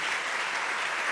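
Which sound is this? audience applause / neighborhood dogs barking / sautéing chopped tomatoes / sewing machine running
audience applause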